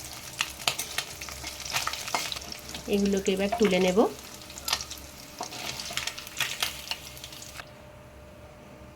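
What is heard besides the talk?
mourola fish frying in oil with eggplant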